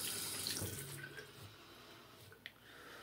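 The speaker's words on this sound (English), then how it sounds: "let's put a little bit more water in this lather" Tap water runs steadily into a sink while shaving lather is prepared, a constant close hiss of flow with a faint click near the end and no talking.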